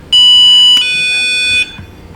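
A loud, piercing electronic beep from a power probe circuit tester sounds twice in quick succession, each tone held steady, then cuts off into quiet.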